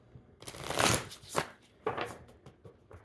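A Shaman's Dream oracle card deck is riffled in a couple of crisp bursts with small taps between, close and soft, without speech.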